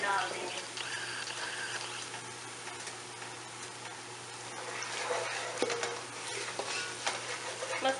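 Onions and spices fry in a pan for haleem, a steady soft sizzle with repeated scraping stirs of a spoon against the pan, fairly quiet and close.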